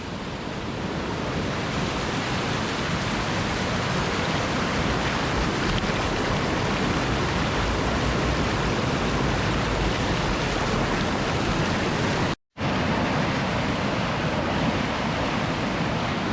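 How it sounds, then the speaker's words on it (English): Waterfall pours over bedrock in the wild Scottish landscape, producing a loud, dense, unbroken roar of rushing water close by, with one brief cut near the end and no talk. "you can see it's just a waterfall the whole way up here"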